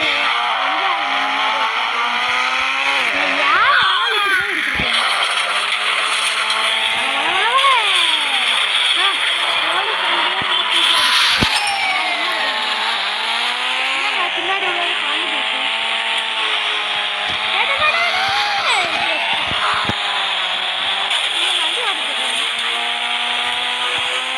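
A car in the video game Indian Bike 3D drives along, its synthetic engine whining and rising and falling in pitch with repeated revs and gear shifts, steady throughout, with a voice talking over it at times.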